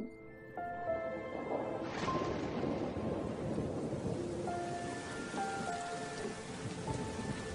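Steady rain pours down while a low rumble of thunder rolls in near the start, with sustained musical tones layered over the storm and no voices.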